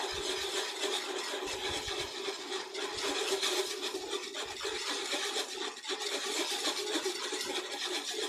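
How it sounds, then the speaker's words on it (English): A whisk stirs gram flour and water together in a bowl, giving a steady, continuous scraping and swishing close up, with no talking. "I'm going to take my whisk. You're going to stir"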